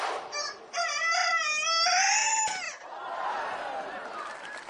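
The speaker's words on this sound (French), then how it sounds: "Et qui commençait à m'agacer, ce coq, là, il chantait de plus en plus faux." A rooster crows one long, strained, off-key cock-a-doodle-doo, loud and close, followed by a fainter noisy tail.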